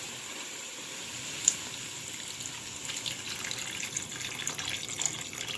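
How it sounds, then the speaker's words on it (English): Water poured into a pan runs steadily in a soft, continuous hiss and trickle, fairly close, with a tiny clink near the start. "Now you want to add some water."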